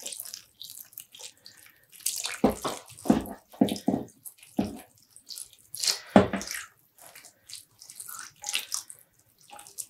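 Liquid dye poured over cotton yarn from a full two-liter measuring cup, a close splashing, gurgling pour that swells in uneven bursts, then trails off into softer trickles and drips.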